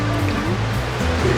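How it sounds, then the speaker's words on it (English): Water trickles out of marble rock inside a cave on Vancouver Island, a close, steady burbling wash that fills the short moment. "A little bit of water coming out of there."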